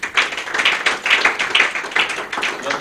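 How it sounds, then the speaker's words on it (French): Audience at a launch event clapping together, a run of fairly even, overlapping hand claps with a rhythmic pulse, lasting a few seconds at moderate loudness. "Nous pouvons quand même bien applaudir,"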